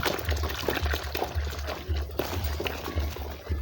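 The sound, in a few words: water being poured for homemade liquid detergent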